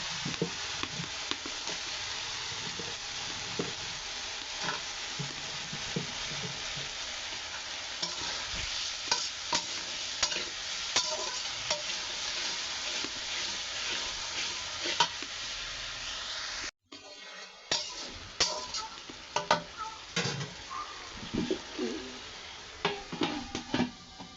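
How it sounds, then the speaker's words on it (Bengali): Spice masala fries and is stirred in a pan for a long stretch, a continuous close sizzle with frequent spoon scrapes, briefly cutting out near the end before resuming, with no voices. "মশলাটা বেশ কিছুক্ষণ কষানোর পরে আমি টমেটোটা দিয়ে দিব।"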